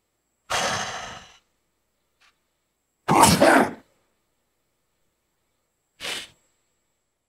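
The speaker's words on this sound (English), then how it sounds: "Apparently this is something to sneeze at." Three separate throaty bursts: a sneeze, followed after pauses by another sharp sneeze-like blast and a shorter exhale, loud and close in an otherwise quiet room.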